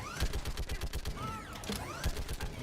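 Mass Effect 3 combat gunfire, a rapid rhythmic string of automatic shots at moderate volume, mixed with whirring weapon and creaking mechanical effects.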